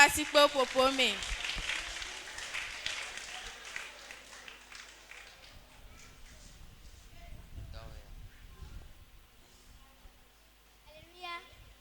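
A church congregation applauds and cheers as a sister is welcomed, the clapping mixed with excited voices and shouts, strongest at first and then thinning out into softer, scattered sound.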